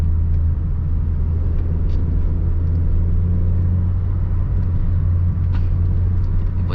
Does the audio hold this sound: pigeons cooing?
no